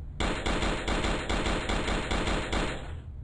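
A rapid burst of automatic gunfire, about a dozen sharp, loud, evenly spaced shots that cut off abruptly and leave a short echoing tail.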